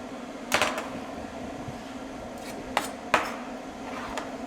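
A knife cuts through a peeled cucumber on a cutting board, a few sharp separate knocks spaced over a steady background hum.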